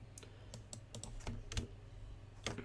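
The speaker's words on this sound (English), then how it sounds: "you can then type in your machine name or IP" Keys on a computer keyboard clatter close by in a quick, uneven run of taps with a few louder strikes over a low room hum.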